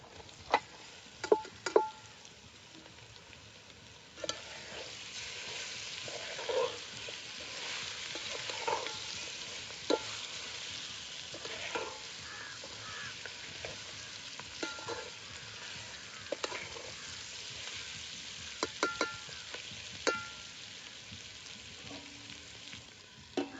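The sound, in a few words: mutton frying with turmeric in pan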